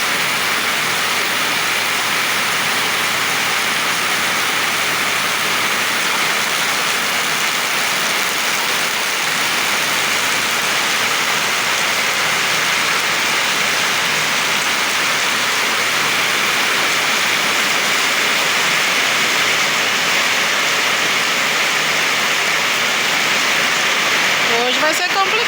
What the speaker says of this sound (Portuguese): Chuva que Deus manda.